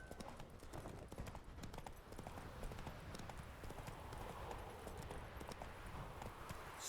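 The hooves of Roach, a horse in The Witcher 3, clip-clop in a steady rapid walking rhythm, faint and even throughout, with no voices over it.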